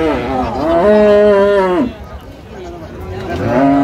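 A dairy cow lets out a long, loud moo close by at a livestock market in Raniganj, Dinajpur, followed by another starting up, amid the murmur of a crowd of people talking.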